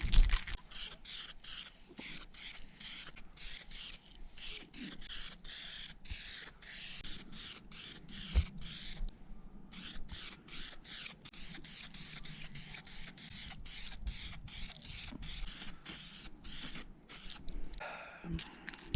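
Spray paint going onto Honda CRF450R parts being prepped for hydrodipping, a steady hissing mist in many short repeated bursts that run back to back for the whole stretch, close and fairly even in level.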